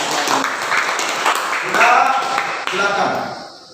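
Group applause in a classroom, many hands clapping together in a dense, sustained wash that swells near the middle and tapers off toward the end, with some voices mixed in.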